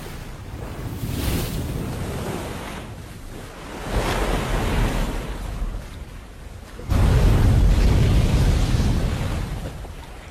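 Large ocean waves surge and crash in three heavy, roaring swells, the last one loudest and closest, with wind buffeting the microphone between them.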